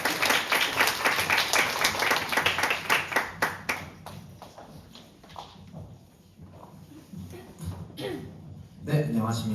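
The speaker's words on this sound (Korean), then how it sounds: "큰 박수 부탁드립니다" Enthusiastic audience applause fills a hall at a tourism-site regeneration contest, loud dense clapping at first that thins out into scattered claps before a brief final burst.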